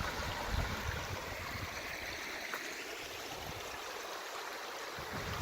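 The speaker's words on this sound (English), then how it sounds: "I'll let you listen to a desert stream coming from an oasis." A continuous, even babble of a small desert stream flowing from an oasis in Anza-Borrego State Park runs throughout, close and moderately loud, with no other sounds.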